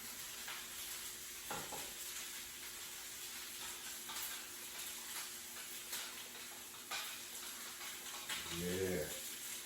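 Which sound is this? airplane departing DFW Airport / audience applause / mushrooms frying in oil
mushrooms frying in oil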